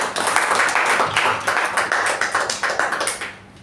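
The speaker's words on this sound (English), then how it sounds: "let's give a huge round of applause to Shreya" An audience at a Toastmasters meeting applauds its speakers, a burst of clapping that thins into a few distinct, rhythmic claps before stopping near the end.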